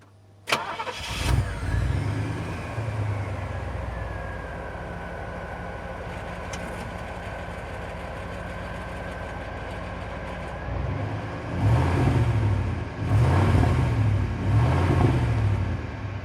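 A Pontiac Firebird Trans Am styled as KITT cranks and fires up, then settles into a steady idle rumble before revving into a deeper, louder drive-off with gear changes, close by, with no talking.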